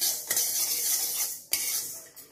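Thalipeeth bhajani flour roasting in a pan over medium gas, with a utensil scraping and stirring against the metal, two sharp clinks punctuating a soft continuous rasp.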